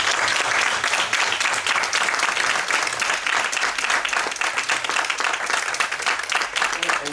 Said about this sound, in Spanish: voy a pedir un aplauso para nuestros 4 ponentes